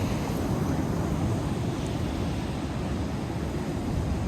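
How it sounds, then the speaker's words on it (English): Roaring ocean surf at a Gold Coast beach, a steady loud wash of breaking waves with wind buffeting the microphone throughout, no voices. "Roaring waves, beautiful."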